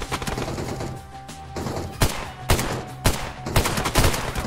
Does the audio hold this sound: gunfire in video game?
yes